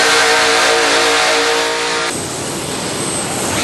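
A monster pulling machine at a pull competition roars at full throttle, a loud harmonic engine howl that abruptly gives way to a rough, gritty broadband rumble.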